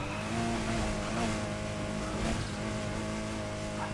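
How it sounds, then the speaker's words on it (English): A car engine surges under a nitrous boost in the video game Need For Speed Heat: a steady, loud, whining motor tone with slight wavering pitch, heard alone without talk. "Oh shit, I hit the nitrous."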